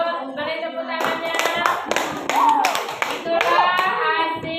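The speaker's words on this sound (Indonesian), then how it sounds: "itu beri tepuk tangannya" A group claps hands in a classroom after a small-group presentation, a steady burst of clapping starting after a second and running to the end, with children's voices chattering underneath.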